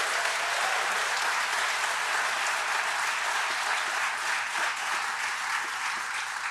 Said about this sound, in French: applaudissez-les chaleureusement